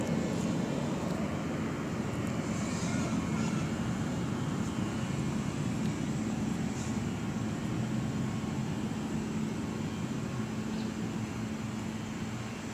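A plane drones steadily overhead above a town square, a continuous, fairly faint low engine rumble lasting throughout with no voices.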